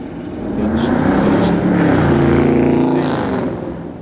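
A single car drives past close by, engine rising and falling in a smooth swell over a few seconds, loud and alone without talk.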